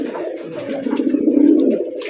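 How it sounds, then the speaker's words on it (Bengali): Rajgola pigeons cooing in a steady, close, continuous low warble that swells slightly toward the middle, alone without talk. "1800 টাকায় চমৎকার কালারিং রাজগোলা কবুতর"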